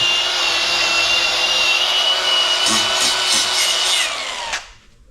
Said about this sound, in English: Trying to clean it up a little bit with a wire wheel.